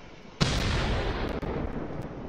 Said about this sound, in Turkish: yukarıda bir şeyler patlıyor ama